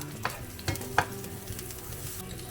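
Oil and butter sizzle in a preheated pan as aromatics are sautéed, a quiet continuous frying hiss broken by a few sharp stirring clicks and scrapes; no talking.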